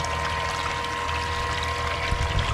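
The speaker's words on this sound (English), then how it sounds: "that is the full pump's capacity running" A bilge pump set to full speed on a gold prospecting and cleanup rig, pushing a steady, continuous rush of pouring water with a constant motor hum throughout.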